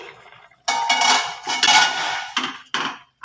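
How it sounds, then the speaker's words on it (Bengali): Metal clatters and scrapes as a lid comes off a pot of simmering chicken and potato pilaf, several loud clanks in quick bursts after a quiet start, close by, with no talking. "মিনিট দশেক পর আমরা ঢাকনাটা খুলছি"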